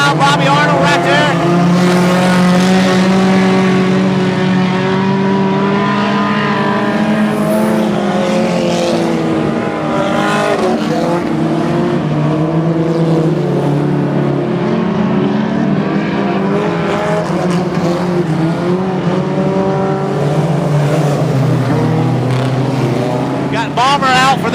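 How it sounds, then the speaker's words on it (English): Race cars run laps on a racetrack during a hot lap session, their engines droning loud and continuous throughout while a commentator talks over the noise. "On the racetrack for their hot lap session."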